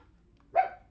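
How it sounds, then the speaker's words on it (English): A single short bark from a pet dog indoors, fairly faint and brief, standing alone against a quiet background. "dog's barking."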